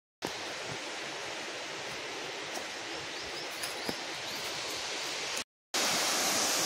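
Whiskey Waterfall in Similipal National Park roars as a steady, broadband wash of falling water, constant and fairly close, with a short gap near the end and no voices.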